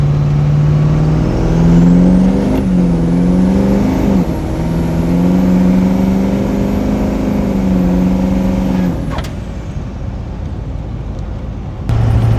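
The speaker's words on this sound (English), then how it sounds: "Alright, so we're second gear, lock up. Get to 30, I'll lay into it." A turbocharged car accelerates hard from a second-gear launch, its engine note climbing steadily and loud up through the revs with a rising turbo whine, then abruptly easing off near the end.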